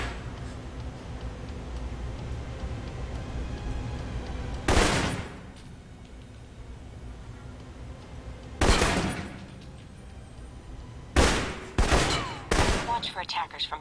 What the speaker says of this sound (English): For long-range encounters, the assault rifle's the key. It's accurate, powerful. Just be sure to line up your shots carefully.